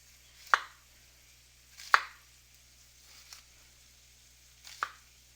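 A knife chops onion on a cutting board for a Cuban-style sandwich, four separate sharp chops spaced about a second or more apart, close and crisp, with a low steady hum underneath.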